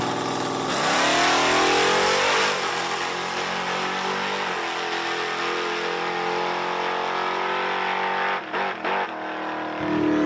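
A drag racing car makes a solo bye run at Virginia Motorsports Park, its engine roaring loud and close from launch, holding a sustained high-pitched wail before fading, with a couple of brief drops near the end.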